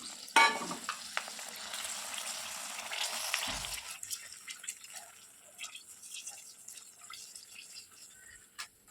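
Dried red chillies frying in hot oil, a sharp crackle at the start settling into a low, quiet sizzle with occasional faint clicks and stirs, close and soft throughout.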